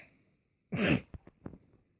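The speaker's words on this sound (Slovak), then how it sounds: "Prepáčte, teraz som si kýchol." A single close, sharp human sneeze bursts out loud, followed by a few short snorts and breaths as the person recovers, with no talk over it.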